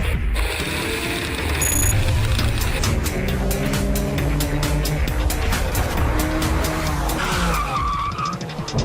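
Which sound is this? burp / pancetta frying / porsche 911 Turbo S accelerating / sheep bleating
porsche 911 Turbo S accelerating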